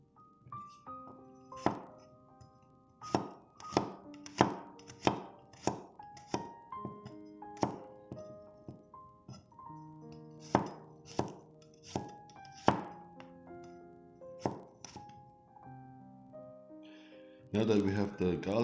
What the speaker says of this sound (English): First, we'll chop up the garlic